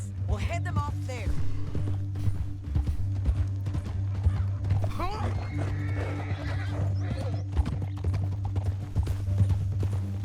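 Horse hooves clip-clopping in Red Dead Redemption 2, with a horse neighing and snorting on the move, steady and close, set over a loud continuous low hum and game ambience while people talk.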